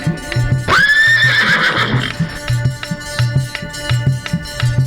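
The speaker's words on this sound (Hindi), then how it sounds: "आवाज आ रही है घोड़ाओं की।" Horses neighing loudly with a long rising whinny, followed by a steady, even clip-clop of galloping hooves close by.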